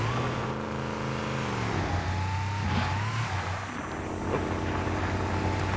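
Warthog vehicle in Halo: Combat Evolved driving off a high ledge, its engine droning loud and steady with a rising whine, then a rough tumbling rumble and the engine carrying on, alone with no talk.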